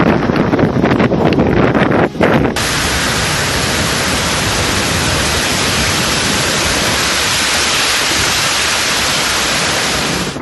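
Strong cyclone Fengal winds blowing in Puducherry, a loud, dense roar of wind buffeting the microphone, with heavier gusting at the start before settling into a constant rush.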